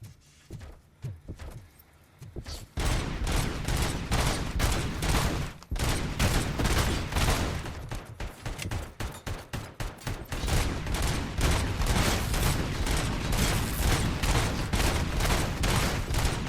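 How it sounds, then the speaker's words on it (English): Dense, rapid gunfire from a first-person shooter, Robocop Rogue City, with pistol shots cracking in quick succession after a quieter opening, loud and continuous through most of the stretch. "Gonna kill this guy with a pistol."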